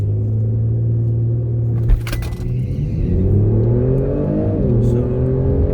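A 2006 Dodge Charger with the 6.1 liter engine in sport mode launches down a quarter-mile drag strip. Its loud, close engine roar climbs steadily in pitch as it accelerates, with a brief clatter early on.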